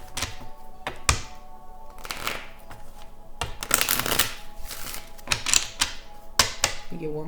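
A deck of goddess-guided oracle cards being shuffled by hand up close, with irregular riffling flutters and sharp taps and thunks of cards knocking together over several seconds.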